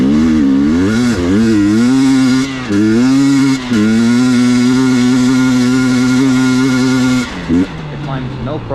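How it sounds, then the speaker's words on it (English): A 2023 GasGas EX250 two-stroke cross-country dirt bike engine revs and holds a loud, steady buzzing drone, rising and dipping in pitch, then cuts off briefly near the end. "this is the 2023 GasGas 250 EX250. It's their lightest cross-country model. It's actually surprisingly quiet for a two-stroke."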